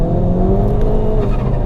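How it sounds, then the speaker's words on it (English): A tuned 330 bhp Revo Ford Fiesta ST pulls hard in second gear, its engine note rising loud and close under full throttle, with a brief tyre-scrabbling edge as traction breaks. "Let's quickly try second gear pull."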